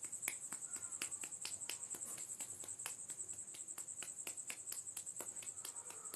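Fingers tapping on the ear, a quick run of sharp close taps repeating over a steady high insect-like chirping background.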